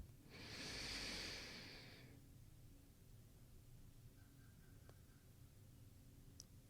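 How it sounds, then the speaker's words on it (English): A single long, deep inhale during a guided meditation, close and breathy, swelling for about two seconds, then near silence with faint room tone. "Take in a deep breath with me and breathe in healing."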